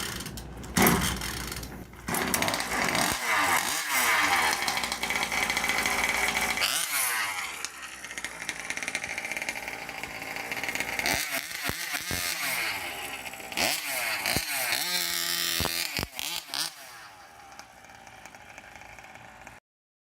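A two-stroke gas RC car engine is pull-started with choke off: several rapid rasping cord pulls and sputtering catches, then a buzzing, chainsaw-like whine that runs briefly and fades out.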